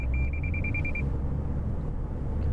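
A Lexus LS600h collision warning sounds as a rapid string of about ten short, high beeps over about a second, heard inside the car over a low road rumble that continues afterward.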